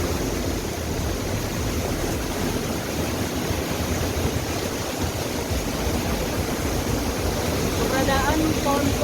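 Siringo waterfall at Paropo roars in a dense, constant rush of falling water, loud and unbroken throughout.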